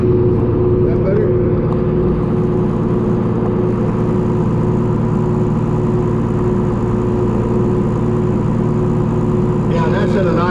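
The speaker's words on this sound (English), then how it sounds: "Fast idle. We're running about 1100 RPMs." An engine holds a fast idle around 1100 RPM with a steady, loud, low rumble that runs unbroken throughout, close by and alone.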